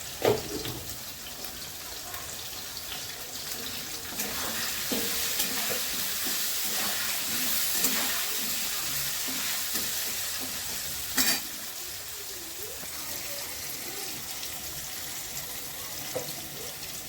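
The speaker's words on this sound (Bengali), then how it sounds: "আলু অর্ধেক ভাজা হয়ে গেছে" Potatoes frying in a pan with turmeric and salt for a jackfruit curry, a steady soft sizzle running throughout, broken by occasional scraping stirs and light clinks of a utensil against the pan.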